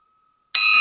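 A meeting bell struck once, a sharp bright ring that starts abruptly after near silence and sustains with a clear metallic tone.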